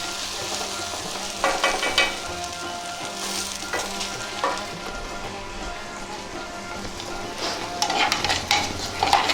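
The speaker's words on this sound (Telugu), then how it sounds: "బంగాళదుంప వేపుడు కూడా ఒకసారి ఇలా కలుపుకోవాలి, లేకపోతే వేడికి అడుగంటిపోద్ది, మాడిపోతుంది" Potato fry is stirred in a hot pan, giving a steady crackling sizzle with intermittent scraping bursts of the spoon, close and fairly loud, with no talk.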